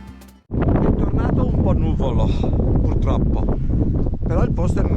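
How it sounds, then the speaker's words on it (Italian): Cold wind buffets a camper on a zigzag coastal road near Bosa, Sardinia, a loud continuous rush that starts abruptly and stays constant, mixed with a voice talking throughout. "Vento gelido."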